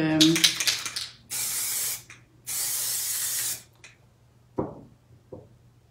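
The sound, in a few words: spray bottle spraying onto painting canvas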